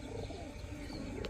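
Juvenile red-necked high-flyer pigeons of a Khulna breed coo softly at a pigeon market, low murmuring calls running steadily through the short stretch with a few faint chirps over background noise.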